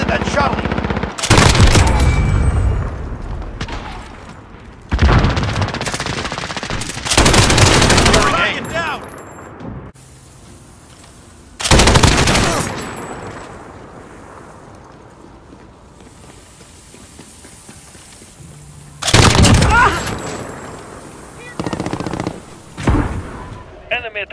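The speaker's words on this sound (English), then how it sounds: "Taking fire!" Heavy bursts of automatic gunfire in a Modern Warfare Domination match, loud machine-gun volleys with a PKM that come in several separate bursts between quieter stretches, with voices speaking at times.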